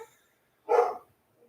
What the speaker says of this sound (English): there's my dogs, if you can hear that in the background